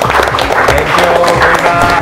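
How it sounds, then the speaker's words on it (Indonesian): Studio audience applause on an Indonesian cooking competition show as a contestant is eliminated, a steady dense clapping wash with some music or tonal sound mixed underneath, fairly loud throughout. "Bu Indah boleh meninggalkan Master Rasa dan boleh tepuk tangan untuk Bu Indah."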